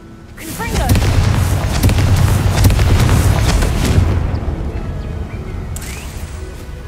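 A Confringo blasting curse explodes in Hogwarts Legacy: a loud booming blast that swells into a long rumbling roar with crackling debris, then tapers off, under a faint sustained background tone.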